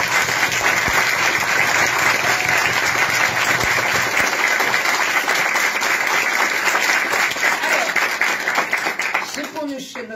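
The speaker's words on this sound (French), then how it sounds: "sous vos applaudissements, les deux premiers gagnants de cette nouvelle saison de Candidator, Clément et Mathieu." Sustained audience applause at a contest-winner announcement on a French show, steady dense clapping across the whole stretch, loud and close, thinning slightly at the end.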